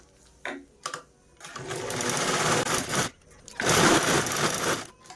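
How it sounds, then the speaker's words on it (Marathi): A sewing machine stitches a zipper onto a sling bag in two loud bursts of rapid whirring, after a few short clicks and a brief pause. "तर अशा प्रकारे आपण ही झिप स्टिच करून घेतलेली आहे।"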